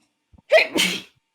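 One close, loud sneeze in two quick parts, a short intake then a forceful burst, with nothing else around it.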